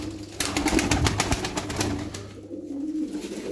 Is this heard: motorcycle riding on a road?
no